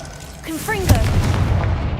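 Confringo fire spell in Hogwarts Legacy: a rising whooshing cast followed by a loud booming blast with a rumbling, crackling tail. A voice speaks over the start.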